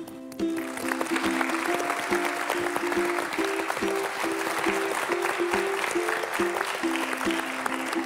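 Audience applause welcoming Hwacheon county governor Choi Mun-soon onto a regional broadcast stage, a steady wash of clapping over a rhythmic musical jingle that plays throughout.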